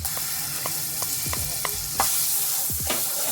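Garlic sizzles steadily in a pan with butter, broken by a run of sharp stirring scrapes and clicks; a louder burst of frying rises near the end, close and continuous with no talk.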